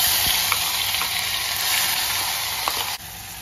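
Ground masala paste sizzling in hot oil, a steady bright crackling hiss with occasional pops and a brief stirring scrape, fairly close and uninterrupted.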